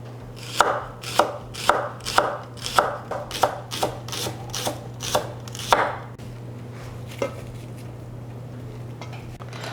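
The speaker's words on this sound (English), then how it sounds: "I have 2 shallots. I'm going to chop these up." Knife chopping two shallots on a cutting board: about a dozen sharp, fairly quick chops for roughly six seconds, close and clear over a steady low hum, then a quieter stretch with only faint scattered taps.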